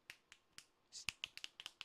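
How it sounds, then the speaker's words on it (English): A run of about ten sharp finger snaps, close and crisp, starting evenly spaced and quickening into a tighter cluster toward the end, with no talking. "I just snap my fingers and she comes, guys."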